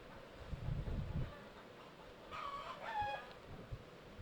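Chickens cluck softly and a rooster gives a short faint crow in the background, brief bird calls over low ambient noise with a little murmur of voices.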